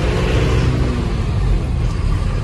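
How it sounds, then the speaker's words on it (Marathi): A Tempo Traveller van pulls out onto a main road, its engine rumbling loudly and steadily close by with a low, continuous drone throughout. "गाडी जरा बाहेर काढू आपण मेन रोडला."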